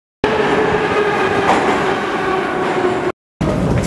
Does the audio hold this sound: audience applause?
no